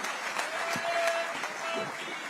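Audience applause welcoming Home Minister Amit Shah at a public event, a fairly faint, steady patter of many hands heard from a distance, with a brief tone and some background murmur.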